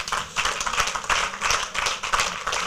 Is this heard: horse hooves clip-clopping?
no